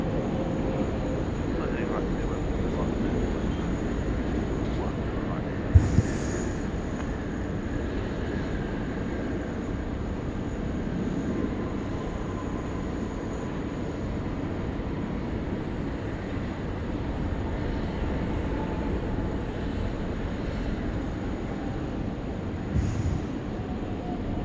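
British Airways A380 airliner landing at Sydney Airport, heard as a steady, broad engine and airflow roar that holds level throughout, with voices talking over it and a couple of brief sharp knocks.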